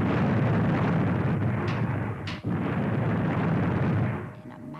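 A volcano erupts as a film sound effect: a continuous, loud roaring rumble with one sharp blast in the middle, fading off at the end.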